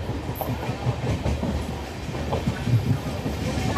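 A suburban commuter train on the Thane–Panvel route runs along its tracks, a continuous rumbling roll with rhythmic clickety-clack from the wheels, heard from inside the carriage.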